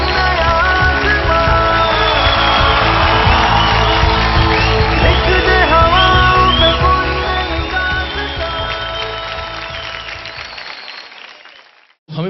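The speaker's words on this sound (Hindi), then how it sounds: "एक बार जोरदार तालियां हो जाए नितिश के लिए" A television talent show audience bursts into loud applause with whoops and cheers for a contestant, a dense sustained roar of clapping that gradually fades toward the end.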